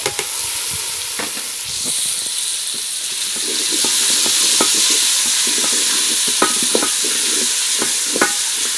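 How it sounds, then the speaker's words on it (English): Tomatoes frying in a pot over a fire in a village kitchen in Africa, a loud continuous sizzle with repeated close stirring scrapes and clinks of the spoon, no speech. "let me allow the tomatoes to cook"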